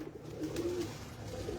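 Champion pigeons coo softly in a breeder's loft, low rolling throaty calls repeating close by over a faint, steady background hum.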